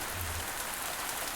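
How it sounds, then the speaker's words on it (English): Heavy rain falling in the Pumpkin Days farming game, a steady dense patter hissing evenly throughout the brief moment, alone without talk. "It wasn't raining this heavily out at yeah, boy, that's really chunky rain"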